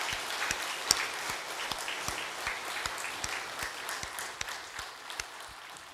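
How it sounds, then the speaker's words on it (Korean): A church congregation applauds together in a sanctuary, a steady round of clapping of moderate loudness, with some sharper individual claps standing out throughout. "축복의 박수를 한번 올려드리겠습니다."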